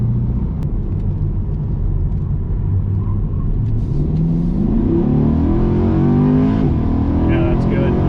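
A Chevrolet Corvette C8 drives and accelerates, its engine note climbing as it revs up through a gear, heard from inside the car over a constant road rumble, with a voice speaking over it.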